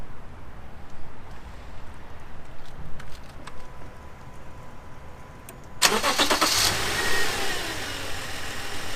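A Subaru Outback 3.6R engine cranks with a brief starter whir after some quiet clicks, then catches and roars to life before settling into a loud, steady idle close by.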